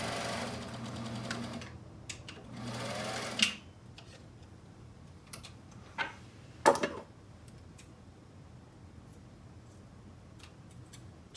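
A sewing machine stitches a fabric pocket in two short runs, each lasting a second or so, followed by scattered light clicks and handling taps in a quiet room.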